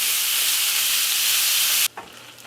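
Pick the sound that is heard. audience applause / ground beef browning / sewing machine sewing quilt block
ground beef browning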